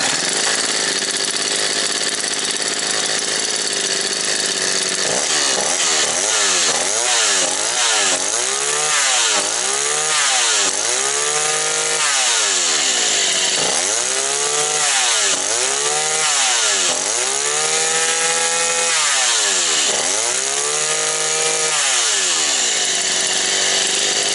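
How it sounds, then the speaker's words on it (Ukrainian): Petrol string trimmer engine running after a repair, a loud continuous buzzing drone that revs up and down repeatedly in rising and falling sweeps, close by with no talk. "Ну що ж, друзі, коса готова. Запускаємо вже."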